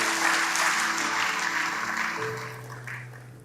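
A church congregation applauds during a sermon, a broad wash of clapping that fades gradually, with a sustained musical tone humming underneath.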